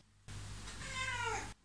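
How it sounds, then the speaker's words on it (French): A pet cat lets out a single short meow, fairly quiet and close, with near silence before and after it. "Elle, c'est mon chat, Gucci."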